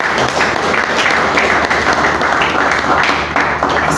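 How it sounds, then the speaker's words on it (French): Audience applause at a justice conference, a dense, even wash of many hands clapping that continues steadily and loudly throughout. "Je pensais que vous alliez applaudir sur ce courage-là."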